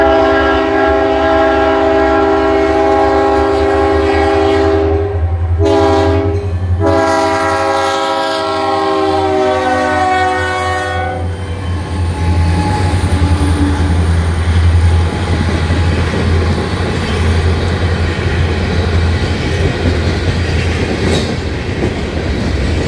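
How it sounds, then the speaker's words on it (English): At a grade crossing with gate lights, a loud train horn with a fouled-sounding tone blasts for about ten seconds, broken by brief pauses. A passing train's heavy rumble and wheel clatter then carries on close by. "Boy, that horn sounds fouled."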